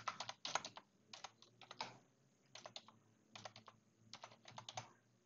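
Computer keyboard typing while entering carbon monoxide data into a species database, quiet bursts of rapid clicking keystrokes separated by short pauses, close and alone.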